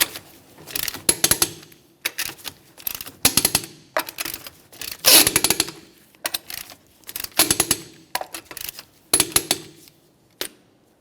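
A torque wrench tightens wheel lug nuts on a Jeep Patriot, giving repeated bursts of close ratcheting clicks separated by short pauses.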